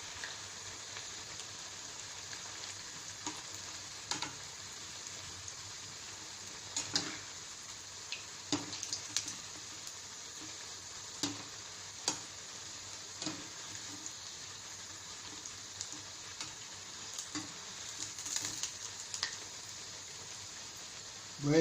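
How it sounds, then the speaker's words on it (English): Steady, faint sizzling of cabbage balls deep frying in oil over a medium flame, broken by scattered soft clicks and taps of stirring. "While frying, just roll the ball so that it gets fried all the surfaces."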